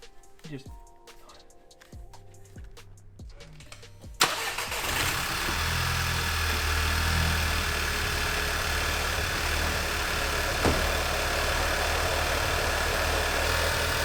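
A 2013 Volkswagen GTI Mk6 with a manual gearbox and a Stage 1 tune cold-starts with a loud crank, then settles into a steady, rough idle with a misfire. Quiet rustling comes before the start, and a brief knock occurs later.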